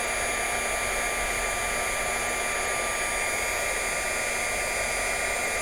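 An embossing heat tool blowing hot air onto silver embossing powder on paper, a steady loud whir with a high whine held at an even level throughout, no voices.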